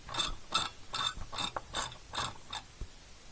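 A screw is turned out of a Dell Optiplex 755 heatsink, giving a close, quiet series of crisp ratcheting clicks at a steady rhythm, about seven in a row.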